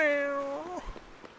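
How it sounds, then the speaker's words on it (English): A single drawn-out cat meow from the video game Dragon Quest VII Reimagined, clear and close, bending down in pitch before trailing off into faint background game sounds. "And here's another kitty. Meow, meow."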